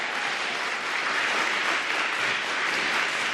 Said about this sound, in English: the more you clap, the less time we'll have for the candidate